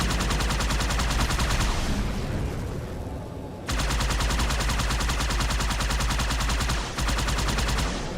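Sustained rapid turret gunfire in the Halo 2 campaign, loud and dense with continuous automatic bursts, briefly thinning around the third second and again near the seventh before resuming at full intensity; no talking.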